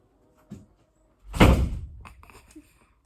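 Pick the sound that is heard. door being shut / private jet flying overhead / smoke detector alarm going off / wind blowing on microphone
door being shut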